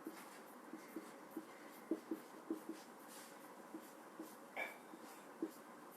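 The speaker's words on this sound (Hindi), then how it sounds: "ये मैं कुछ नंबर्स लिख रही हूं यहाँ पे" Numbers written on a board during a maths lesson: faint, quiet scratching and light tapping strokes in an irregular rhythm, with short pauses between marks.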